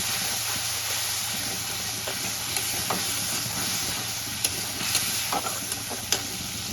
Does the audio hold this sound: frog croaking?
no